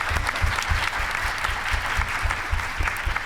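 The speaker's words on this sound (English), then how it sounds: "Let's give a round of applause for our authors." Audience applause for authors at a romantasy book panel: continuous, full clapping from a sizable crowd, steady and fairly loud throughout with no voices over it.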